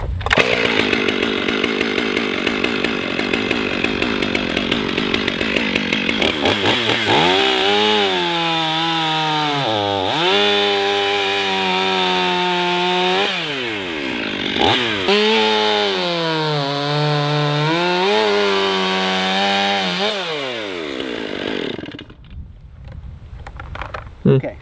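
A sharpened chainsaw slicing round cookies off a log, its engine loud and close with repeated rising-and-falling revs as each cut bites through the wood, then dropping to idle before cutting off near the end.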